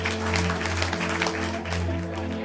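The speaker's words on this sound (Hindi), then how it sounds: "फिर से सब ताली बजाते हैं।" Applause from a gathering in a narrated story, played as a steady, dense wash of clapping over a constant low hum and heard on its own, moderately loud.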